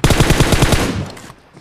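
Rapid automatic gunfire in a shooter video game: a loud, close burst of about six quick shots that trails off into a fading echo.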